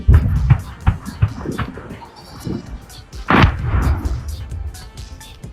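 Rapid bursts of heavy 30 mm autocannon fire from a BTR-4 armored vehicle, several sharp booming shots in quick succession, close and loud, with a louder blast partway through and rumbling between shots.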